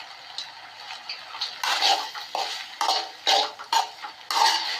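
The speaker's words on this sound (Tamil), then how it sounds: "கிளறி எல்லா பக்கமும் கிளறி வைத்துக் கொள்வோம்." Food coated in tomato sauce being stirred in a pan gives a run of close scraping and clinking strokes of a utensil against the metal, in an uneven rhythm, with no talking.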